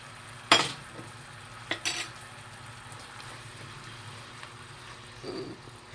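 Chicken for spicy Korean chicken returned to a pan and stirred, with a soft, steady sizzle under a few sharp scraping and clinking stirs near the start and a light rustle near the end.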